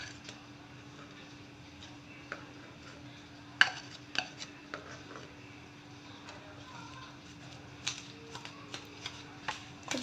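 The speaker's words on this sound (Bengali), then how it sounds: "খুব ভালো করে মিশিয়ে নিচ্ছে।" Palm pulp being mixed into batter in a bowl: quiet, irregular spoon taps and soft scrapes over a low steady background hum.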